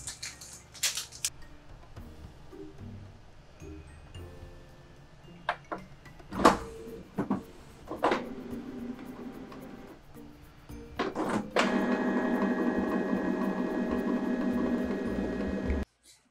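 A Canon Pixma G3010 inkjet printer works through a job: clunks and sliding mechanical knocks at the start, then a long steady whirring feed and print run lasting several seconds before stopping.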